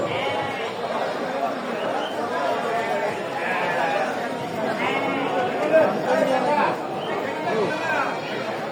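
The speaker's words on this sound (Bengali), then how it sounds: "এ হাটে প্রচুর ছাগল উঠে এই কারণে মানুষ এ হাটে দিকে বেশি আসে ছাগল কিনতে" Goats bleat among a murmuring crowd at a traditional outdoor goat market, overlapping calls rising over continuous chatter and talk nearby.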